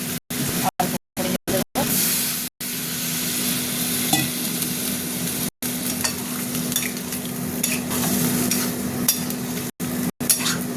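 Water hits papaya curry (pepe dalna) cooking in a pan, setting off a strong, close, continuous sizzling hiss with occasional utensil clinks and no speech.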